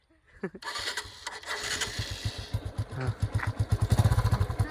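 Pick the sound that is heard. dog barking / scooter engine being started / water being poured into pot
scooter engine being started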